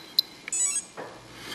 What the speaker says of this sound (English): we'll just bring it up until the ESC gives us a beep